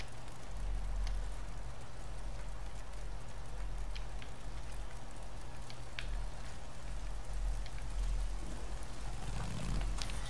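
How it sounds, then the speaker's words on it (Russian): Rain falls steadily in the open-world game Days Gone, a dense even patter with scattered sharper drops over a low constant engine-like hum, continuous throughout with no talking. "дождик пошел."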